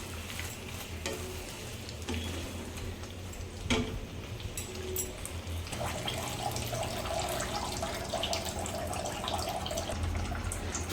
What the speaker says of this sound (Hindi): तो एबे आमे टिके एथिरा ऐड करिबा पानी।